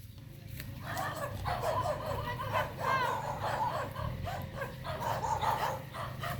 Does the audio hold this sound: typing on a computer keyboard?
no